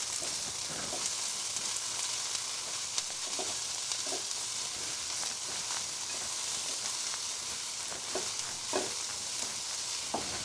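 Shredded cabbage and carrots stir-fry in a hot pan for Hakka noodles, a continuous close sizzle broken by scattered scrapes and clinks of stirring, with no voices.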